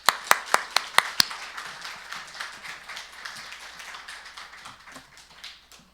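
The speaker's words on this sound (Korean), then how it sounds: "우리 박수로 목사님을 환영하도록 하겠습니다" A church congregation gives a round of applause to welcome a visiting pastor, opening with several sharp, distinct claps before settling into a steady, moderately loud patter of many hands that slowly fades over six seconds.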